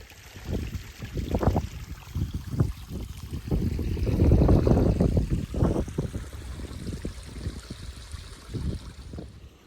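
Waterfalls tumble down a moorland clough on Chunal Moor, a steady broadband rush of falling water heard alone, swelling louder in the middle before easing back.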